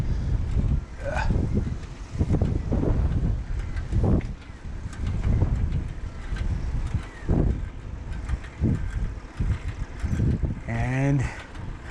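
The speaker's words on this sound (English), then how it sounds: "Oh wow, that's a headwind" Strong headwind buffets the microphone outdoors, a loud, continuous low rumble of gusts that rises and falls for the whole stretch, with a brief tonal squeal near the end.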